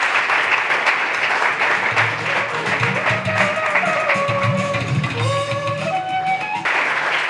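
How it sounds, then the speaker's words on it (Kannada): Loud, sustained applause from a crowd congratulating a newly selected CISF recruit and her parents, dense clapping filling the whole stretch with a steady tone underneath. "ಅವರನ್ನ ಜೋರಾದ ಚಪ್ಪಾಳೆಯೊಂದಿಗೆ ಅಭಿನಂದಿಸ್ತಾರೆ."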